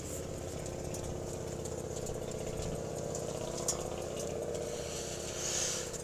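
A motorcycle engine idles steadily with a low rumbling chug and a light rattle, close and constant throughout.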